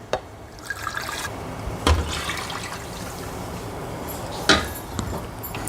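Milk poured from a mixer jar into a creamy brain booster soup with broccoli pieces, a soft, steady liquid pour with a few louder splashes and drips.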